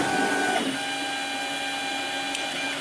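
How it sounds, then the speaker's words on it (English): 3D printer homing its axes during setup, a steady motor whine and hum holding at an even level with a brief shift in pitch near the start. "So you can see right now it's homing the axes."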